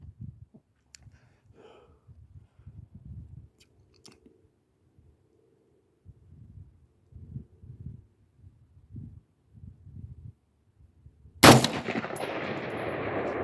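A Radical Firearms AR-15 with a 16-inch barrel, fired from a bipod at a 300-yard target, lets off one sharp, loud shot near the end, after a long quiet stretch of faint low handling noises.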